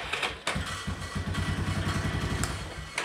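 A Yamaha Big Bear ATV engine restarts with a sharp crank, then settles into a steady, rapid idle chug, close and moderately loud, with a couple of clicks at the start and end and no voices.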